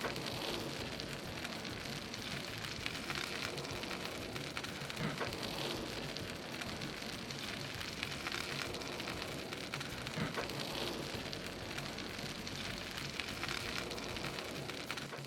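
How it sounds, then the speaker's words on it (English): Salmon fillets sizzling on a grill over a fire-retardant silicone sheet, a steady dense crackling hiss lasting throughout at even loudness, with no talking. "Start grilling up these salmon fillets."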